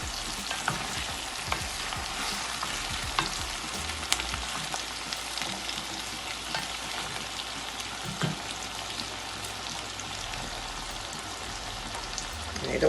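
About three pounds of boiled cassava frying in a pan, giving a steady, dense sizzle with crackling and spattering that runs unbroken for the whole stretch, close by, with no talking.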